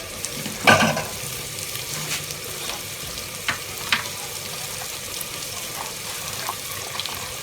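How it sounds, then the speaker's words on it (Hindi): Okra and green chillies fry in a pan for masala bhindi, a steady sizzle broken by a sharp clatter near the start and a few lighter stirring taps, no talk. "भिंडी तो अब थोड़ी सी सब्ज़ मिर्च भी फ्राई हो जाती है"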